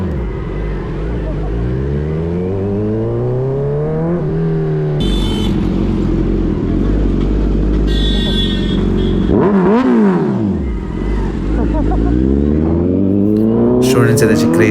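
A Kawasaki Z900 motorcycle with an aftermarket exhaust revs hard outdoors near a college, its engine note climbing and falling in several loud sweeps, with a sharp blip near the middle and passing traffic around it.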